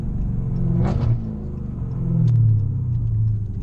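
A supercharged Dodge Hellcat engine rumbles low and steady, swelling slightly in the middle before settling back into a deep idle growl.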